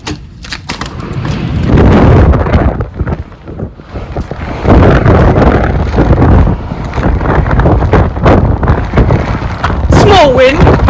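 Strong wind buffets the microphone in loud gusts through an open window, with rumbling thumps and heavy rushing noise, briefly dipping before surging back.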